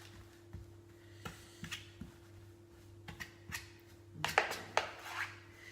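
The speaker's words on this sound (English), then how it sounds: "I'm just going to push this down with the back of the spoon and smooth it out" Back of a spoon pressing and smoothing shortbread dough into a thin baking tin, faint scattered taps and scrapes with a brief louder burst of scraping near the end.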